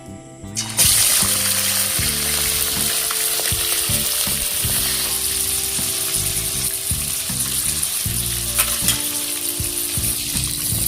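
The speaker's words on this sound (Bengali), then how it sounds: "চিকেনটাকে হালকা ফ্রাই করে নেব।" Chicken pieces for crispy pakora frying lightly in oil, a loud continuous sizzle and crackle that starts abruptly and holds steady, close up, with soft music running underneath.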